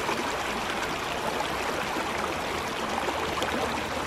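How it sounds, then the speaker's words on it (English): Water pours steadily from the end of a hose laid in a small to medium creek, a continuous broadband rush and splash heard close up with no talking. "you can see water is coming out this other end"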